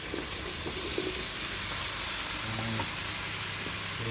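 Eggplant fries in a pan for ginisang talong with pork, giving a loud, steady sizzle close up, with occasional light clinks of stirring.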